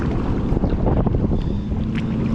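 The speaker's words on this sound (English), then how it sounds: "the wind has picked up incredibly. We have these ski boaters everywhere" Ski boats run on water whipped up by strong wind, a low droning motor rumble under heavy wind buffeting on the microphone, with a faint higher whine near the end and no speech.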